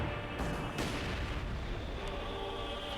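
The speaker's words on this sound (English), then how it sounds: "This is probably going to die to the mortar here." Mortar fire in the video game Company of Heroes 2 during an infantry battle: a couple of muffled blasts early on over a dense, steady rumble of battle noise, with no clear talking.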